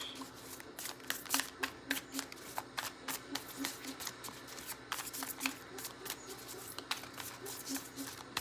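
Tarot cards are shuffled close by in quick bursts of crisp, papery riffles and flicks that repeat steadily throughout, with no voice over them.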